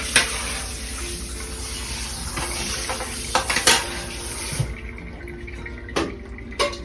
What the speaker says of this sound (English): But I wanna first clean out the sink.